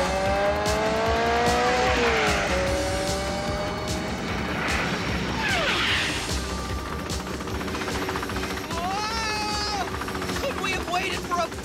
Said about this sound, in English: RoboCop's driving like a madman down there